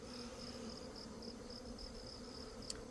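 Honeybees drone in a steady, close hum during an autumn hive inspection, a continuous buzzing mass of insects with a faint click near the end and no talk.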